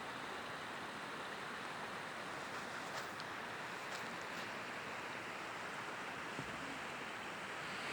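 Water of the Loire river rushing steadily nearby, a continuous broadband wash that fills the whole stretch with light wind noise on top and no voices.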